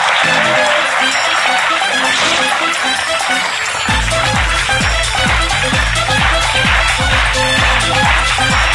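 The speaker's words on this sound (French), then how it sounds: "Sous vos applaudissements, elle s'appelle Aurélie, mesdames et messieurs" A television studio audience applauds a guest's entrance on a French talk show with a continuous, loud wash of clapping, and a pulsing music beat comes in partway through.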